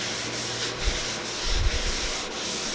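Cloth rubbing tung oil onto patterned plywood gives a steady, close, dry scrubbing sound. A few short, heavier strokes stand out on it, and no one speaks.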